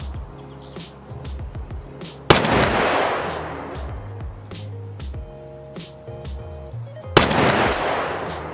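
Gunshots in the Escape from Tarkov video game, two loud sharp shots with a long decaying echo several seconds apart, over a quieter background of fainter clicks and ambient game sounds, no talk.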